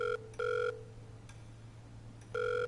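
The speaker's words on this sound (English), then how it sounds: "Why is the phone going off?" Telephone ringing in the Surgeon Simulator video game: three loud electronic ring bursts separated by short gaps, sounding alone over a low steady hum.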